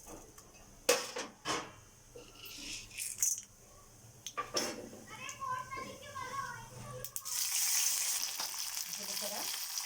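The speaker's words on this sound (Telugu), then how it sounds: "కరివేపాకు, ఎండుమిర్చి అండి, మినపప్పు, శనగపప్పు వీటిని దూరంగా ఫ్రై చేసుకున్నాం" Curry leaves, dried red chilies, urad dal and chana dal fry in a pan for curd rice, with a soft sizzle and a few clinks under intermittent speech and children's voices, growing louder near the end.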